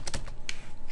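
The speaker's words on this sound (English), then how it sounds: "Move somewhere, press enter on the keyboard." Computer keyboard keys pressed in a quick burst of sharp clicks, several taps close together then a final one, recorded up close with no voices.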